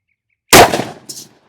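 A single sharp, loud handgun shot from a .44 Magnum or .460 Rowland, a close crack with a short ringing tail and brief echo, alone in an otherwise quiet setting.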